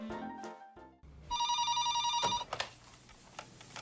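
A telephone rings in a scene from the 1991 film Little Man Tate, a steady electronic ring lasting about a second over quiet film sound, with short tonal sounds just before and a few soft knocks after.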